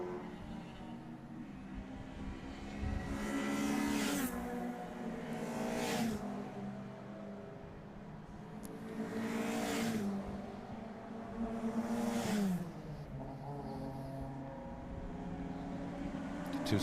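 Salika race cars lapping a racing circuit, engines rising and falling as several cars rev, shift and pass through a corner, heard at a distance with repeated swells of engine noise.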